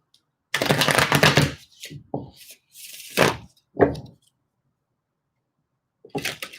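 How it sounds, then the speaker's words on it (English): A deck of tarot cards being shuffled by hand in a quiet room, heard as a few separate bursts of riffling and flicking with short pauses between them, close and clear with no talking. "when I was shuffling, I saw the Five of Cups with the Seven of Wands"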